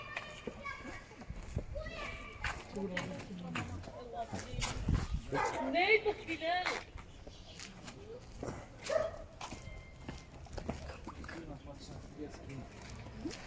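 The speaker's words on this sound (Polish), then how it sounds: "patrzcie na te pieski" Dogs bark in short bursts amid a lively outdoor street scene in Wrocław, with children's voices and adult talk running over and around them.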